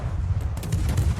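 The Dutch destroyer Friesland fires HE shells in World of Warships, a short burst of deep booming gunfire with rumbling low end and a couple of sharp cracks, loud and close.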